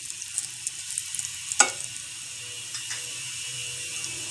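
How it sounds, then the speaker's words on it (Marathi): Asafoetida and curry leaves sauté in a pan, a faint steady hiss of hot oil with light rhythmic scraping of a spoon and one sharper clank near the middle, heard close with no speech. "हे चांगलं परतून घेणार आहे मी."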